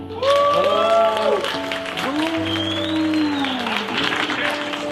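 A stand-up comedy audience claps steadily while someone speaks over the applause, his voice rising and falling above it.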